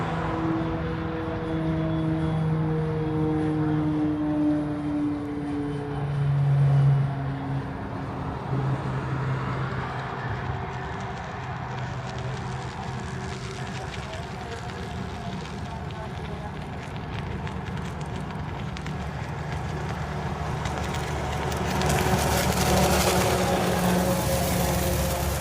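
Airbus A380 airliner departing Honolulu airport, a long rising engine roar with tonal whine and deep rumble that builds and swells over the whole stretch, heard from a distance with occasional voices underneath.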